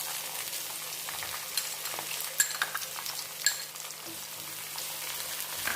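Onions and cashews fry in ghee for a roasted semiya pulav, giving a steady close sizzle, with a few sharp clicks of a spoon stirring the pan.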